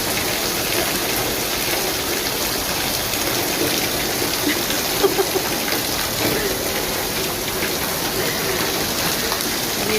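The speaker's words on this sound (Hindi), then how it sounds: "अभी ढेर सारी बारिश हो रही है।" Heavy morning rain pours down in a dense, unbroken hiss of drops hitting surfaces, loud and steady throughout.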